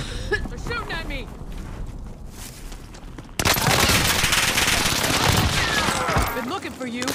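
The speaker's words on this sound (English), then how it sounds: "They're shooting at me." Rapid bursts of automatic gunfire ring out in a battle royale video game, growing louder and denser partway through, with players talking over the shooting.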